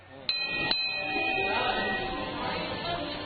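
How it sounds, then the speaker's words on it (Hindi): A temple bell in Prayagraj during Mahakumbh 2025 is struck twice in quick succession, its ringing tone lingering over a soft background murmur of a crowd. "टन टन करती घंटी"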